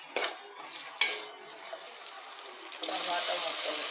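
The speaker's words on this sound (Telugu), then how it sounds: "ఆయిల్ వేసేసాను, మసాలా దినుసులు, ఆనియన్స్, పచ్చిమిర్చి, క్యారెట్, పొటాటో బాగా కలుపుకోవాలి" Spoon scraping and stirring onions, green chillies, carrot and potato with whole spices in oil in a pot for vegetable pulao, with a few sharp clinks and a soft steady sizzle building toward the end.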